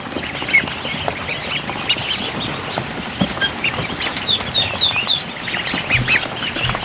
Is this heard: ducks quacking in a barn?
yes